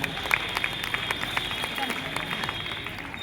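Audience applause for a man as he comes on stage at a Christmas celebration at Christ Church School, a dense, steady patter of many hands that stays quiet and distant under a voice speaking.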